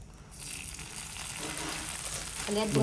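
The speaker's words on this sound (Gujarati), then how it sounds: "ભાતનું વઘાર થાય ગાઈસ" Cumin tempering for jeera rice sizzling in hot oil in a home kitchen, a steady close frying hiss that swells toward the end, with faint voices in the background.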